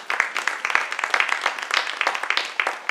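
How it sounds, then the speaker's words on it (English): A smaller audience at a community forum claps for high school students, with distinct individual hand claps in an uneven, moderately close patter. "So let's give them a round of applause."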